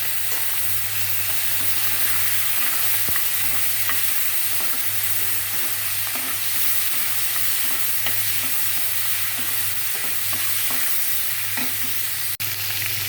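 Prawns sizzle and fry in a hot wok while being stirred, a continuous crackling hiss broken by regular scraping strokes of the spatula, close and steady with no voices.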